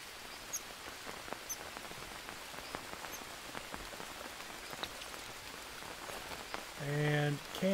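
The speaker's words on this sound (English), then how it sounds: "The reason I am doing this is because we have rain, and the rain just makes it easier." Rain falling in the jungle survival game Green Hell, a soft steady patter of drops with scattered sharper ticks, ending with a brief tonal game sound.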